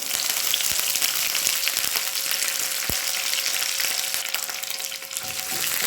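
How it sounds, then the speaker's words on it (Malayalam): Coconut pieces and curry leaves fry in hot oil in a pan, a steady close sizzle running throughout, with a few faint clicks of stirring and no talk. "അതുവരെ നമുക്ക് ചെറുതായിട്ടൊന്ന് വഴറ്റിയെടുക്കാം"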